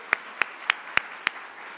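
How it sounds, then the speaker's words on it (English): Five sharp, evenly spaced hand claps ring out close by during a speech event applauding Juan, the deputy speaker, over a faint room background. "And one more round of applause for Juan."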